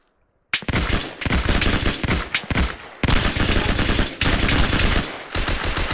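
Sustained bursts of .30 cal machine gun fire in the WWII shooter Hell Let Loose, loud, dense and continuous rattling in several long strings separated by brief breaks, following a moment of near silence.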